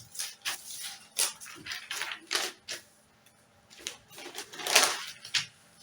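Scissors snip through a paper sewing pattern for a C-yoke bustier top in short bursts of crisp cutting, irregular clusters of near, sharp snips separated by brief pauses.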